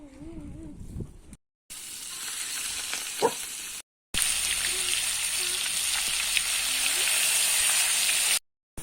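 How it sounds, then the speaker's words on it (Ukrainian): Steady sizzling of a bone-in steak frying bone-side down in a hot pan, a continuous crackling hiss broken by a few brief silent gaps. "Потрібно, щоб стейк смажився спочатку з кістки"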